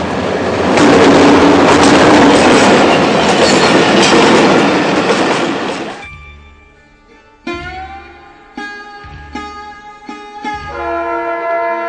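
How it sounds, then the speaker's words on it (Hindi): A train roars past very close on a railway track beside houses, a loud, dense rush lasting about six seconds that cuts off abruptly. Separate tonal blasts and clanks follow. "अब देखिए ट्रेन आ रही है आपके घर के बिल्कुल पास से गुजरेगी"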